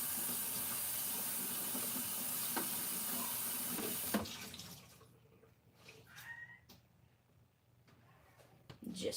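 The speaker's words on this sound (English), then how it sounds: "give that washcloth a rinse" Running tap water pours steadily into a sink as a washcloth is rinsed during Thanksgiving baking cleanup; the flow is loud and continuous at first, then cuts to quieter splashing, dripping and wringing sounds.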